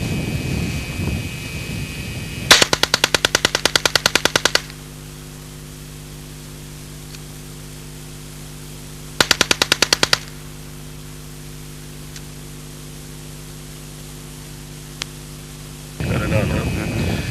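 An Alan Halla 1977 experimental low-recoil submachine gun fires corroded 1973 Israeli ammunition in two rapid bursts with a long quiet gap between them, and voices talk just before and after.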